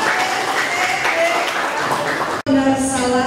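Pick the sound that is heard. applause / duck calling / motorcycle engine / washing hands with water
applause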